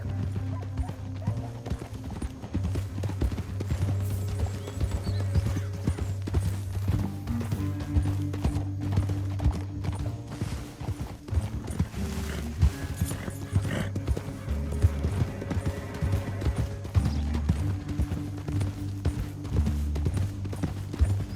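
In the video game Red Dead Redemption, steady clip-clop of horse hooves at a trot, with an occasional whinny, under a continuous low musical score.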